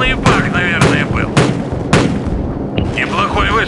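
Rapid series of sharp gunshots and heavy booms from a Call of Duty 4: Modern Warfare battle, several loud bursts spaced unevenly over continuous rumbling noise.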